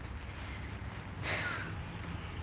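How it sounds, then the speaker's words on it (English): A crow caws once or twice in the background outdoors, fairly distant and faint over steady ambient noise, with no talking. "Y'all hear that crow in the background?"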